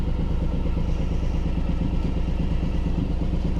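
A Suzuki M109R cruiser motorcycle's engine rumbles continuously at close range, a loud, steady, throbbing low pulse with no break.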